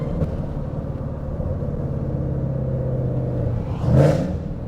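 A Ford Mustang GT engine drones steadily and loudly from inside the car while driving, swelling briefly into a louder rev near the end, with no talking.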